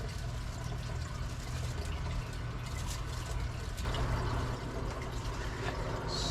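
A steady, continuous rush of water pouring and filling, close and fairly loud, with a slight shift in tone midway.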